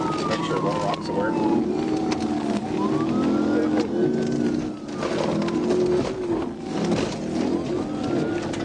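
A police car siren wails up and down continuously during a vehicle pursuit, mixed with traffic and street noise, with birds faintly audible.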